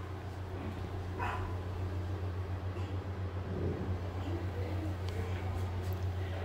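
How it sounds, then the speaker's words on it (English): Puppy shut in a closet of a beach condominium unit, barking in faint, muffled yips under a steady low hum and soft room noise. "I hear a puppy in here too."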